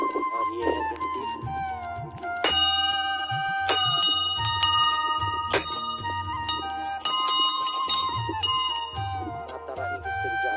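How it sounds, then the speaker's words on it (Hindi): A bright metallic temple bell rings repeatedly in sharp, ringing strikes over a steady musical backdrop, each stroke sustaining with clear overtones. "और ये है घंटी।"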